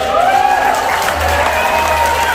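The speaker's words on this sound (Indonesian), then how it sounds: "tepuk tangan dulu ya buat yang basic" An audience at a business seminar for PT BEST Corporation Syariah breaks into brief, continuous applause, crowd clapping filling the room alongside a raised voice and faint tonal background.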